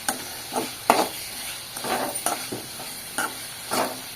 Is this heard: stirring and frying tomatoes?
yes